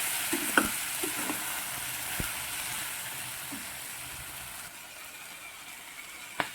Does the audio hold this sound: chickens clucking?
no